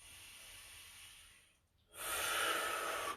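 A faint exhale fades out, then after a brief pause a deep, strong breath is drawn in through the nose during a static stretching routine, close and breathy with no talk.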